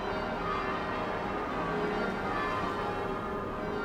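Ten church bells in Old Portsmouth ring in a steady, dense peal, tones overlapping continuously at moderate distance with no voices.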